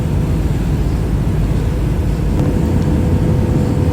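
Steady, loud broadband roar of an airplane cabin in flight, a continuous low rumble and hiss with no talking.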